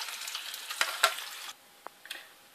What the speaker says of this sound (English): I've just browned them off a bit more in the frying pan